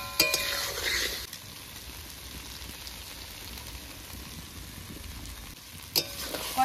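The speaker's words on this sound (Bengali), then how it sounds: "এবার নেড়ে চেড়ে কষিয়ে নেব।" Potatoes are stirred and fried in a spice paste, a steady close sizzle with scraping and clattering from stirring, including a sharp clink at the start and another near the end, with no talking.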